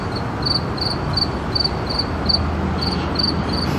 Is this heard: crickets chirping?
yes